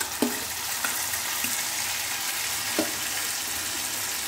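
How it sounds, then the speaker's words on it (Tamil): Onions and drumstick greens sautéing in a pan for a Tamil kulambu, giving a steady broadband sizzle with a few faint stirring clicks, close and alone. "இப்போ நம்ம லெச்சக்கட்டை கீரையை சேர்த்துக்கிற அப்புறம் வெங்காயம் நல்லா வதங்கிடுச்சு"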